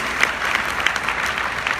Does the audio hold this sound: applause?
yes